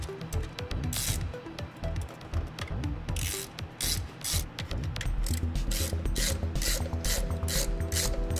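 A ratchet clicks in quick repeated strokes while snugging the bolts on 1.8T ignition coil packs, close and fairly quiet, with rubbing and metallic handling sounds between bursts and a steadier run of clicks toward the end.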